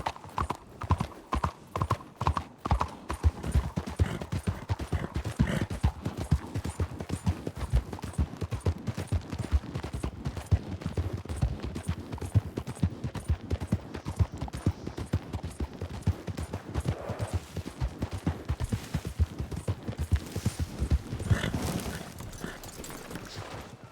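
Horses' hooves in the video game Red Dead (WildRP), three riders on horseback: rapid, loud clip-clopping in a steady galloping rhythm running the whole time, close and dense, with no voices heard.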